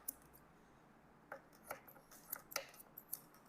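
Grooming scissors snip fur on a dog's lower leg and ankle during a lamb clip, making a series of faint, crisp metallic snips in quick irregular bursts over quiet room background.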